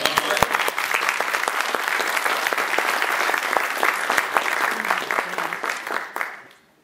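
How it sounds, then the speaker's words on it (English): Loud, dense applause from an audience at an Ignite talk event, sustained clapping that fades out quickly near the end. "The applause died before you got up here."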